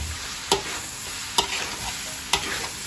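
Shredded cabbage is stirred and mixed in a hot pan with a soft, steady sizzle, and three sharp utensil scrapes come at an even pace, close but fairly quiet.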